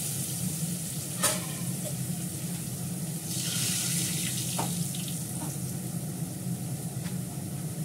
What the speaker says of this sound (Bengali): পেঁয়াজটা একটু লাল লাল করে ভাজা হলে এটাকে মাখানিটা দিয়ে দেবো।